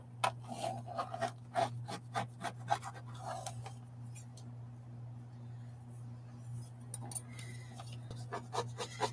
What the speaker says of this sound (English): In the absence of a bone folder, we are actually going to use the end of this ruler to burnish that down